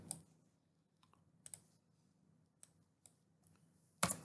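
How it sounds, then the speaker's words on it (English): Key presses on a computer keyboard make a few sparse, faint clicks spread over several seconds, ending with one sharper, louder tap. "Hitting the plus key on my keyboard."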